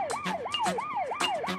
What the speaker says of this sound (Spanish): Troy dice que no puede oírte porque las sirenas son muy fuertes